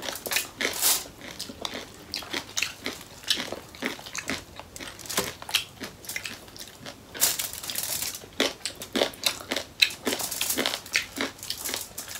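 Crispy lechon belly roll is bitten and chewed up close, giving loud sharp crunches and crackles in an irregular run of bursts over about twelve seconds, with no speech.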